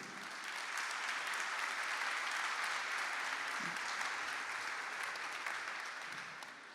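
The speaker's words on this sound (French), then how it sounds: "je vous demande d'applaudir nos invités déjà" A conference audience applauds the invited guests at a panel on property rights versus the right to housing, steady broadband clapping sustained for several seconds at a moderate distance, then tapering slightly at the end.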